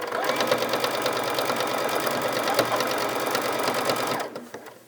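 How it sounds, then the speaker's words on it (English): A sewing machine stitches fabric for a biscornu pillow, making a fast steady mechanical whir with even needle clatter for about four seconds, then stopping abruptly, close and without talk. "then you can continue stitching down the next side"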